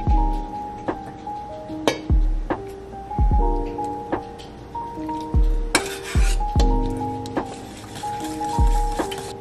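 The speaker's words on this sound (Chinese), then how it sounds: "搅拌到没有颗粒就可以了" A cornstarch and sugar mixture is stirred in a bowl with a utensil. Close, repeated clinks and scrapes strike the bowl at an uneven, busy pace, with a short rustling burst partway through.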